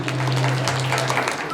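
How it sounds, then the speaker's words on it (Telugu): Clapping from an audience at a state-government Christmas celebration in Husnabad, a dense, steady patter of many hands over a low hum, filling the whole short stretch. "చప్పట్లు కొట్టి ప్రభు మహిమపడదాం"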